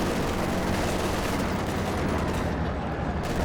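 Machine gun fire and other battle noise from Company of Heroes 2 run as a dense, continuous roar. The rattle blurs into a wall of close, loud gunfire with no pauses.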